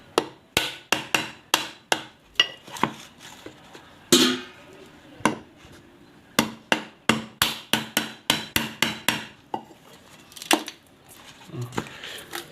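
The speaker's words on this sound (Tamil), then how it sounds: "இப்போ நம்ம வந்து உள்ளே இருக்கிற வழுக்கி எடுக்கிறதுக்கு இந்த பெரிய சர்க்கிளை உடச்சி எடுக்கணும்" Someone repeatedly cracks open the shell of a Country Delight malai coconut, with about two dozen hard, hollow knocks. They come close and loud in an uneven steady rhythm with brief pauses, mostly alone with little talk.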